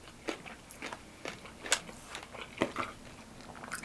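Crunchy fried pork and garlic fried rice studded with crisp fried garlic being chewed up close at a Filipino restaurant, a run of uneven crisp bites and crunches spread across the few seconds, with no talking.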